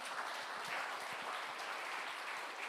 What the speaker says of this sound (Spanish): Démosle un aplauso al Señor por esto, amén